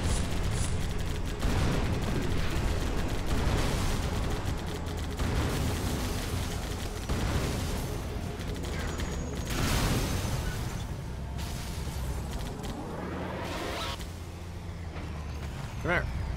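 Gunfire from Halo 2 on Legendary with a rebalanced mod as enemies are shot, bursts of shots scattered through continuous game noise and rumbling effects, with talk over parts of it.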